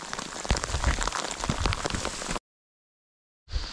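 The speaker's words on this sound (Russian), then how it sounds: "Дождик какой сильный." Heavy, dense rain pelts down close by on hikers in the mountains near the Maly Fisht glacier, a steady loud roar that cuts out briefly and then resumes.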